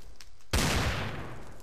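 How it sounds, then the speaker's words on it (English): A single loud blast from a revolver fire bullet in a modded Minecraft game, an abrupt crack after a brief lull with a broad rumbling tail that fades slowly. "we have the fire bullet, which sets fire and takes away a block."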